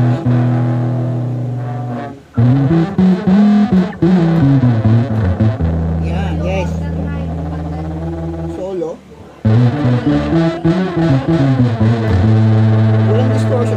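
A bass guitar plays clean with no distortion effect, deep sustained notes and short runs carrying steadily throughout, loud and close.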